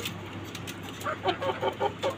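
Hens cluck in a quick series of short, rhythmic calls, moderately close but soft, at a small city chicken farm in Dhaka, with a steady low background hum.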